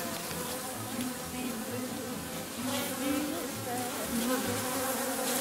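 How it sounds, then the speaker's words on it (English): A loud, dense buzzing of many honeybee drones in a backyard hive in Australia, steady and close, filling the whole stretch with a continuous droning hum. "This bottom hive that I have here is like buzzing of drones, like it's so loud"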